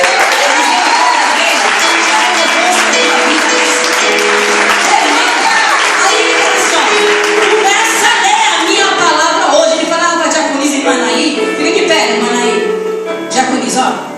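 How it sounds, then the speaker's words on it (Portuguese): A church congregation applauds during a service, a loud sustained roar of clapping mixed with voices and music-like tones that fades slightly at the end. "Você pode aplaudir a Deus?"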